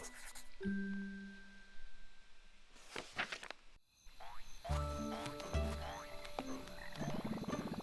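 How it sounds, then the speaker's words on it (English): A chorus of frogs singing in a night swamp in the video game The Plucky Squire: layered, repeating croaks and tonal calls, steady and fairly loud, with a brief dip in the middle before a fuller chorus returns. "Swamps are kinda moody at night. Check out those singing frogs."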